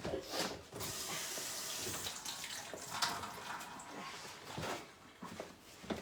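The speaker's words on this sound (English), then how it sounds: "Let me wash my hands" Tap water runs steadily into a kitchen sink while hands are washed, a continuous close splashing hiss with brief shifts in flow and no talking.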